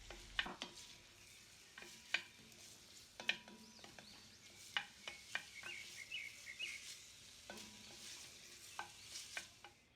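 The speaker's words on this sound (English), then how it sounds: "Add the diced onions and saute on medium heat for about 5 minutes or until golden brown." Diced onions in oil in a hot pot give a faint sizzle under repeated scraping strokes of a spoon against the pot, soft and close.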